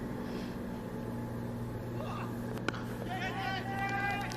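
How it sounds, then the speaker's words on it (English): A tractor engine runs close to a cricket ground during a T10 match in Dresden, giving a steady low mechanical drone throughout with faint crowd murmur and voices over it. "I can't work out whether that's a tractor or a helicopter."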